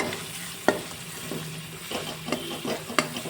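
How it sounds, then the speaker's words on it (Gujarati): About a cup of onions sautéing in a pan for Punjabi Kashmiri dum aloo, with a steady close sizzle broken by a few sharp clicks of a spoon stirring against the pan. "પછી હું એક કપ જેટલી હું ડુંગળી એડ કરીશ એને પણ હું સાતળી લઈશ"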